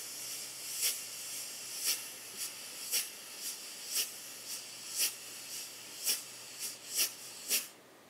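Mouth-made imitation of a drum brush swirling in circles on a snare drum, air pushed through closed teeth and pursed lips as a steady soft hiss with about a dozen brighter accented bursts, close and alone.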